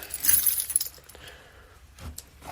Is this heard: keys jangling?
yes